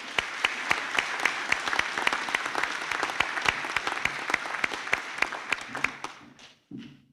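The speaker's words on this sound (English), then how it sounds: "And now if you'd like to give the group a round of applause." An audience at a graduation ceremony applauds steadily, with sharp distinct claps standing out over a dense patter, fading out near the end.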